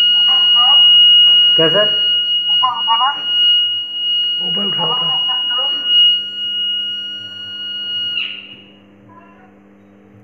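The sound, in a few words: alarm buzzer on a relay panel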